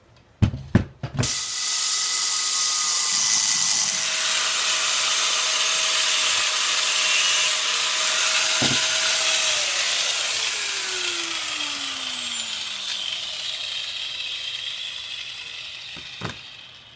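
An angle grinder whines loudly and continuously as it cuts through steel rebar, its pitch slowly dropping as the blade bites, after a few sharp clanks at the start.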